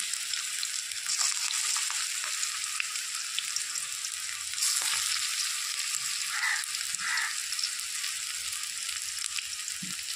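Bathua leaf fritters fry in oil over low gas heat, giving a steady, close hiss of sizzling with faint bubbling crackles and a couple of brief pops, no talk.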